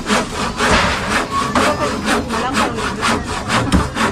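Steady back-and-forth hand sawing through wood during squatter-house demolition in Tondo, rhythmic rasping strokes repeating about twice a second, close and loud with no talking.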